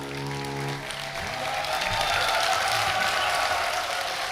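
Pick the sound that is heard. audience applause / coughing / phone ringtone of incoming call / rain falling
audience applause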